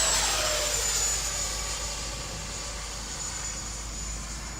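RC 70mm ducted fan F-16 jet passing down the runway, a loud whooshing turbine-like whine that fades gradually as the model moves away, with no voices.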